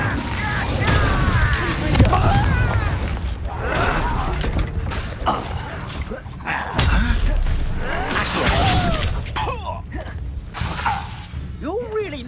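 Incendio fire spell cast repeatedly in Hogwarts Legacy, with loud bursts of magical flame, whooshes, crackles and impacts amid combat effects and music.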